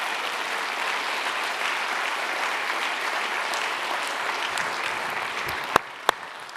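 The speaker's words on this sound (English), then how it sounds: "big round of applause." Audience applause at a finance conference fills the hall in a steady, even wash of clapping that holds for about six seconds, then stops abruptly, followed by a couple of sharp isolated claps.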